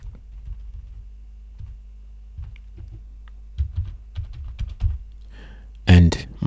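Keys tapped on a computer keyboard while entering text, scattered short clicks in small bursts over a low electrical hum, ending in a louder clatter, with a brief bit of speech.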